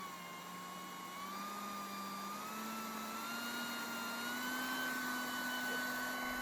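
A BAK RiOn 2 DIG 120V hot air welding tool blows air with a steady whine, whose pitch creeps slowly upward as the airflow rises, close up and without speech.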